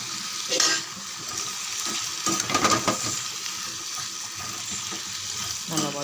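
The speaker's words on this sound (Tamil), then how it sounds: "நல்லா வதங்கட்டும்." Potatoes sautéing with curry leaves and salt in a pan, a continuous soft sizzle with occasional stirring scrapes, and a brief burst of clatter partway through; a faint voice may be present.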